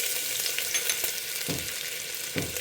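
Whole spices sizzle steadily in hot ghee on a home stove, with anise, mace and other aromatics crackling and spitting continuously, and a couple of brief stirring scrapes near the end.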